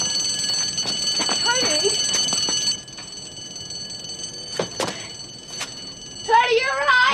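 An alarm rings with a steady high electronic tone running throughout while a man calls out a name and other voices and movement sound over it.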